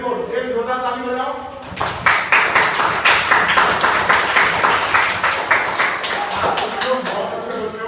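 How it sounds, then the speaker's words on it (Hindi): A room full of children at a library awareness program claps loudly and energetically for several seconds in a thick, rhythmic patter that follows brief adult talk. "एक जोरदार ताली बजाओ।"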